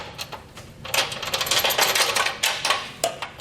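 Carriage bolts drop into the frame of a 2020 Chevrolet Silverado during a Curt trailer hitch install, giving a close run of light metallic clinks and rattles, several quick hits bunched together.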